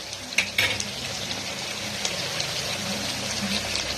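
Chicken liver fry being stirred in a pan after salt and chili are added, with close sizzling and scraping stirs, a few louder clinks early on, and no talk.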